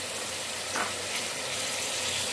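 Tomatoes dropped into a pan of frying vegetables give a steady, loud hiss and crackle of sizzling oil that holds evenly throughout, with no talking.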